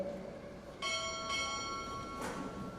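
A ship's bell is struck twice at a Navy Recruit Training Command chief petty officer pinning ceremony. Two clear, ringing strikes come over a second apart, each with a long shimmering decay in a quiet hall.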